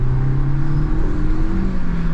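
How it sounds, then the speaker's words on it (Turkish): A Renault Clio 1.3 TCe engine pulls steadily under acceleration, with a rising turbo whine over a low, constant drone heard from inside the car. "Arkadan böyle çok tatlı bir turbo sesi geliyor."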